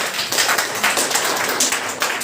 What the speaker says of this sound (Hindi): जोरदार तालियों से स्वागत करिए प्राची द्विवेदी का